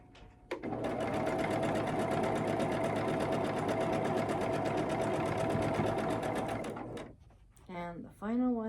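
A sewing machine stitches a quilt block in one continuous, even whir that runs for several seconds close up, then stops as a voice speaks briefly at the end.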